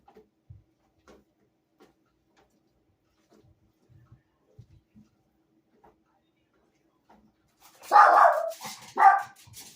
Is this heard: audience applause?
no